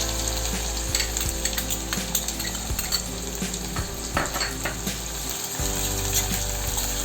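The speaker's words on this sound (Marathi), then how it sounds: "आता कांदा आपण परतवून घेऊ चांगला।" Chopped onion sautéing with green chilli in a pan for Marathi-style upma, a steady close sizzle and crackle of frying with occasional scraping stirs of a spatula against the pan.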